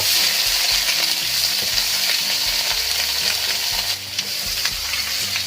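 Chinese kale stir-fries in oyster sauce in a pan, with a loud continuous sizzle and hiss broken by rhythmic scraping and clanking of a spatula stirring the greens, with no talking.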